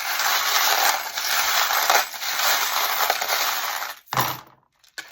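Small metal charms are shaken and tossed onto a table for a card reading, giving a dense, continuous jingling rattle that ends in a short clatter, followed by a brief pause and a final faint clink.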